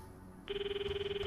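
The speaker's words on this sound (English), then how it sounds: "I need to call Daru right now" A phone rings in Steins Gate 0, a steady electronic ringtone pulsing rapidly after a quiet start, clear and close over low background hum.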